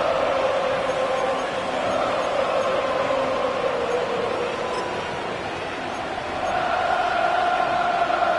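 A football stadium crowd roars after a sack, a continuous loud wall of cheering and shouting that swells and holds throughout, heard from up in a press box.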